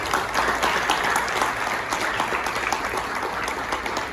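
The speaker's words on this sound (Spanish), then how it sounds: "denle una ofrenda de palmas fuertes." Church congregation applauds strongly during a sermon, a thick, continuous roar of clapping hands heard up close and loud for several seconds, with no speech over it.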